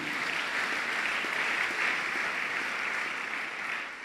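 Church congregation clapping together, dense sustained applause filling a large room, loud and even throughout.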